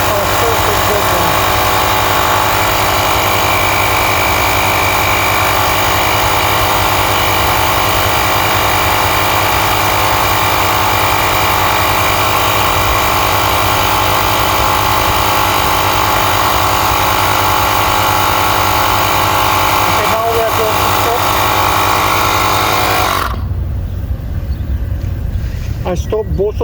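Two electric air pumps, models VC and P, run together during an inflation test, making a loud, steady mechanical drone that continues unbroken before cutting out abruptly near the end.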